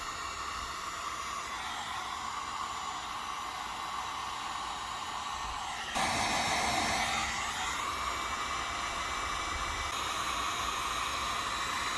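A steady hair-dryer-style heat gun blows warm air over window tint film on a Tesla Model 3, with a constant broadband whoosh that swells slightly louder halfway through, and no talking.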